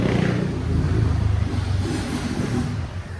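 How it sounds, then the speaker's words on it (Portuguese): Steady motor traffic roars past on a busy street beside a roadside in Bangu, a dense, continuous rumble of cars and engines rising and falling close by, with no talk over it. "tô do lado de uma rua movimentada."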